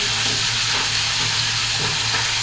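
Chicken sizzles and fries in a pan, a dense, steady hiss and crackle filling the whole short stretch at close range, with no voices over it.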